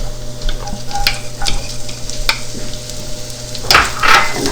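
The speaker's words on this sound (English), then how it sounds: "I'm going to add some sliced onions" Sliced onions sautéing in a pan, with a soft constant sizzle broken by scattered utensil scrapes and taps, a louder burst of frying near the end.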